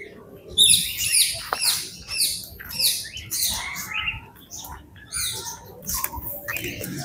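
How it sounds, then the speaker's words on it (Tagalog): Many birds in an aviary on Samal Island, Philippines, chirp and squawk together in a busy, overlapping chorus, fairly close, with scattered rustling and a faint voice underneath. "Paradise Island Aviary. Oh, may mga ibon."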